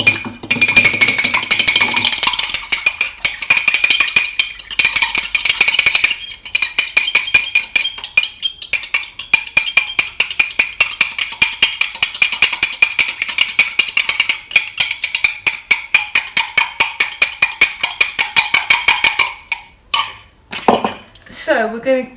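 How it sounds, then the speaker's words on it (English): An egg is whisked briskly in a bowl, the whisk clinking rapidly and steadily against the sides for about twenty seconds with brief pauses, loud and close, before a few slower knocks at the end. "you need to make sure this egg proper whisk"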